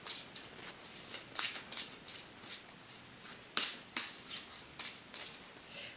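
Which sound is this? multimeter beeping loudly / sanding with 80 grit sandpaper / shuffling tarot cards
shuffling tarot cards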